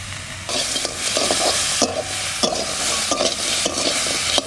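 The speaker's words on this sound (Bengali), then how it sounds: "কাঁকড়াটা ভাজা হয়ে গেছে, এইবার ঘিলুটা দিয়ে দেবো।" Monsoon field crabs fry in a pan: a loud, close sizzle is punctuated by repeated spatula scrapes and stirs in an uneven rhythm.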